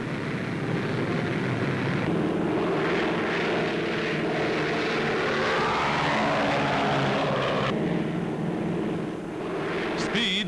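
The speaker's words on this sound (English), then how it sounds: "Speed and range a military secret, the Mosquito is said to be the fastest bomber in the world." A de Havilland Mosquito wooden twin-engine bomber flies on a test flight, its propeller engines droning loud and steady throughout, with a rising and falling whine as it passes overhead.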